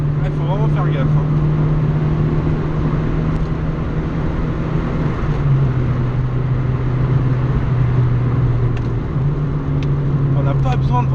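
A Peugeot 205 GTI youngtimer engine holds a steady, loud drone while revving high toward 6000 rpm on a test drive, with a slight pitch step midway, mixed with road and wind noise throughout.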